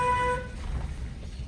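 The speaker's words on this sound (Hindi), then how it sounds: "लॉन्ग हॉर्न प्रेस करो" A car in a narrow street gives a short, clear honk lasting under half a second, followed by a low road rumble.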